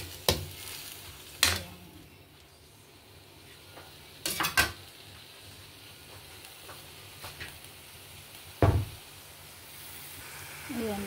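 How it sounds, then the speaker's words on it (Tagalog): Sautéed pechay being stirred in a frying pan, with a faint sizzle under a few sharp scrapes and knocks of a utensil against the pan at irregular intervals. "Halo-haloin lang muna natin"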